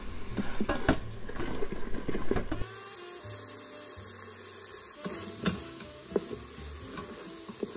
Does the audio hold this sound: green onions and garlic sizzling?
yes